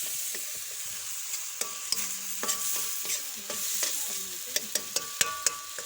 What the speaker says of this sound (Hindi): अब हम इसमें ऐड करेंगे मिक्स मसाला और इसको अच्छे से मिक्स करेंगे।